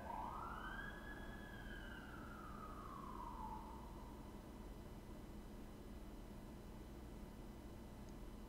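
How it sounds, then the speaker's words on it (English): An emergency vehicle siren passes by, one long rising then falling wail that sweeps up and fades away over a steady hum of background noise. "we let that siren go by"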